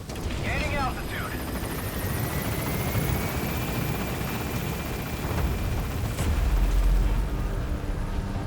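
A helicopter in the video game Metal Gear Solid V roars steadily as it lifts off, a loud, continuous rotor and engine drone with rising whine and a few brief electronic chirps.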